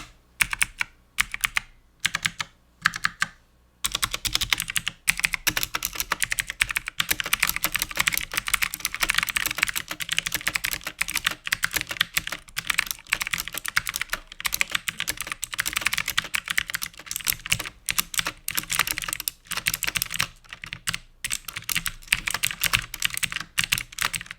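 Logitech G512 SE mechanical keyboard with clicky, tactile blue-style switches being typed on steadily, a close, continuous stream of sharp clicks with a few pauses near the start and no talking.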